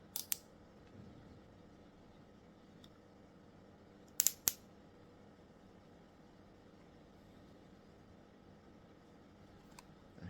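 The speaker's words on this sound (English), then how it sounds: "This is the clicking lever." The clicking lever on a Wmark NG 119 clipper snaps a few times in sharp, quiet clicks: a pair near the start, another pair midway and one near the end, with near silence between them and no talking.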